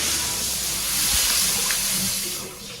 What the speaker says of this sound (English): This is without any doubt the strongest water jet I have encountered in my entire life.